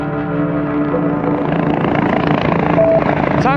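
A helicopter comes in to land on a closed road, droning loudly nearby, its rotor and engine hum steady and growing slightly stronger, with a tonal whine on top.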